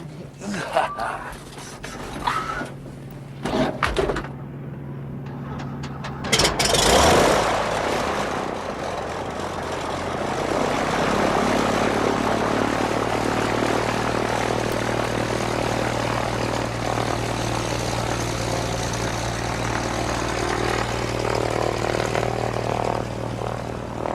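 A propeller airplane starts up and flies, a rising engine roar that settles into a steady droning hum. Voices and other sounds are heard early, then the engine continues alone at a loud, constant level.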